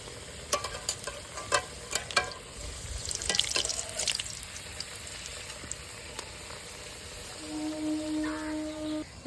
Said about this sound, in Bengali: এই দেখো আলু ভাজি, আর আজকে কাঠের উনানে রান্না হচ্ছে